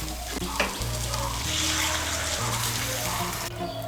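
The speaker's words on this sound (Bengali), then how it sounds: "আমি মশলার বাটিগুলো ধুয়ে এর মধ্যে জলটা দিচ্ছি।" Water from rinsed spice bowls is poured into a pan of rice and spices cooking on the stove, a steady sizzling, bubbling splash that swells and stays loud for a few seconds.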